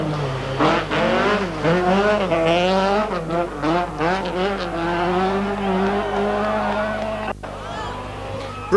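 A Vauxhall rally car at the 1983 Circuit of Ireland Rally, its engine revving hard and climbing and falling through gear changes as it drives fast on the stage, loud and close, with a commentator talking over it.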